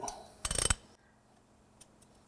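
Ratchet tightening a pointed guard on a MacDon FD2 FlexDraper D2 draper cutterbar, a brief burst of quick metallic clicks followed by near silence and a couple of faint taps.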